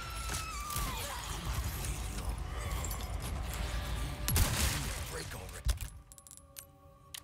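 Shotgun blasts in the Resident Evil 4 Remake video game, several sharp loud bursts with clattering debris over game ambience and a voice talking.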